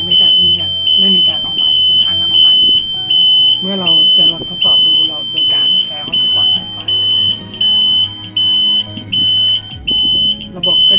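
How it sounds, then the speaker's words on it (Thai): An IoT emergency alarm box, just plugged in, gives a high, steady electronic power-on warning beep in regular bursts, loud and close, while someone talks underneath. "เสียบปลั๊กนะครับ มันก็จะร้องเตือนว่าตอนนี้ ระบบมีไฟเข้าแล้ว"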